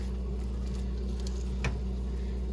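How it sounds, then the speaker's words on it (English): Cabbage sizzling in a covered pan, a steady soft patter and crackle of frying that holds evenly throughout with no talking, close and low in level. "You can actually hear it sizzling in there"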